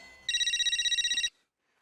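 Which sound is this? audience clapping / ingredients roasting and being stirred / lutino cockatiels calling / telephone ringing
telephone ringing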